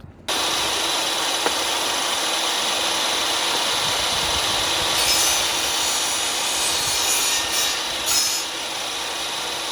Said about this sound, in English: I'm cutting a 45 here, right there